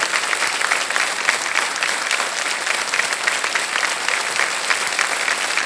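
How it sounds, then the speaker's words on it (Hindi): A studio audience on the Kaun Banega Crorepati game show keeps up sustained, even applause, a dense and steady patter of many hands clapping from start to finish. "बस बस तालियां बजते रहे"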